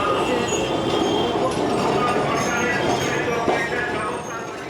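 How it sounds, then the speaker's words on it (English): A tramcar runs through Kolkata with a steady, loud rumble and rattle of wheels on rails, continuous throughout and fading slightly at the end. "Another method of travel is by tramcar."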